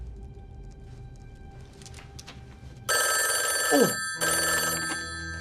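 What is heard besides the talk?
telephone ringing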